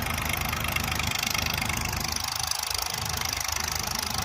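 Dewatering pump motors run steadily at a construction site by high court and HoD tower foundations in Amaravathi, a continuous droning mechanical hum with a fairly loud, even level throughout and no talking.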